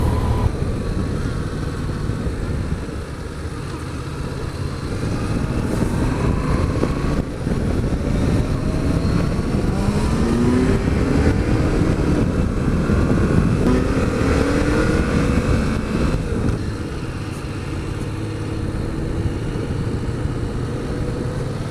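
A 2016 Kawasaki Versys 1000 motorcycle pulls away and rides on, its engine droning steadily with rising and falling pitch as it accelerates through gears, mixed with constant wind buffeting at the microphone.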